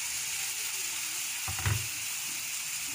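An egg fries in a pan as chunky salsa martajada is added and stirred, a constant bright sizzle broken midway by a brief burst of scraping and bubbling.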